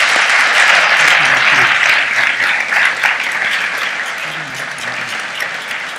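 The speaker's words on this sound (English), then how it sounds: "I want to ask everybody here to have a huge applause" Dense audience applause from a crowd at a talk, loud and sustained for the whole stretch and easing slightly toward the end, with scattered cheers and voices mixed into the clapping.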